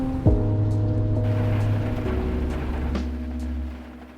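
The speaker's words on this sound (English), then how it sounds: "It's just raining and a little lightning." Rain and thunder inside the Roblox game Berry Avenue: a steady wash of rainfall with a deep, rumbling low roll running under it, plus a couple of sharper knocks, and no voices.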